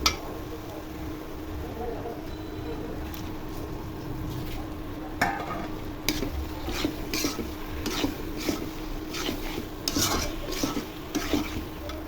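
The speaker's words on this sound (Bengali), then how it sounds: "মশলা ভাজা ভাজা হয়ে গেছে, এখন চিংড়ি মাছগুলো দিয়ে কষিয়ে নেব" Prawns are stirred and fried in a spice masala in a pan, with a steady low sizzle and repeated scraping and clinking of a spatula against the pan, while a person talks over it.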